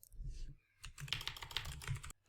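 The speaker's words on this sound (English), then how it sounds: "Simply access command prompt and type the following command" A command typed at a computer keyboard, a short run of soft, close key clicks at a steady rhythm after a brief pause, fairly quiet with no talk.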